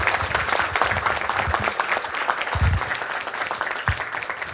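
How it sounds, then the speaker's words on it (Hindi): Audience applause for the cast and crew at a stage play, a dense, steady wash of many hands clapping that stays loud for the whole stretch, with a few low thumps underneath. "सो एक ज़ोरदार ताली आप सबके लिए।"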